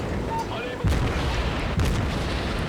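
A torpedo strikes a battleship in a naval combat video game, booming twice as heavy explosive thuds over rumbling engine and sea ambience, with a faint voice briefly underneath.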